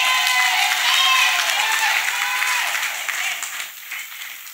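A church congregation claps for Jesus during a testimony service, loud sustained clapping mixed with cheers and excited voices, gradually easing off near the end.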